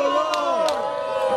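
A lucha libre wrestling crowd in Santa Ana cheering and shouting together in a brief burst. Voices rise and bend in pitch as a mass of fans yells in unison.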